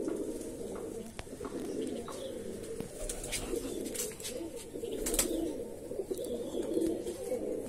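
Andhra Madrasi pigeons coo in low, repeated murmuring calls, a soft continuous chorus of several birds nearby, with occasional flutters and clicks over it.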